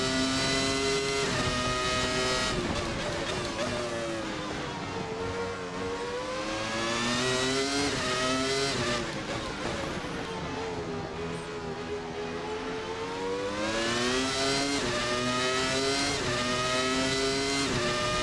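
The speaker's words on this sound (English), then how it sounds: "You can hear the car bottoming as you go over the bigger bumps and over the higher parts of the curbing." A Williams FW19 Formula 1 car's engine screams continuously in a racing game, pitch climbing and dropping through gear changes as it powers along, loud and close throughout, with the car bottoming out over bumps and curbs.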